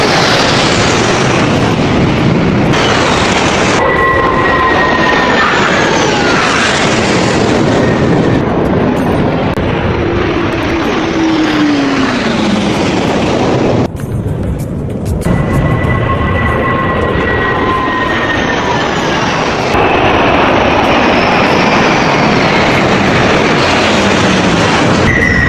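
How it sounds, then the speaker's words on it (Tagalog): Military airplanes fly overhead during a Paris parade, each jet passing as a loud, roaring sweep that swells and fades, several passes in a row, with steady engine rumble filling the whole stretch and no talking. "pinanood ang mga eroplano habang dumadaan sa itaas"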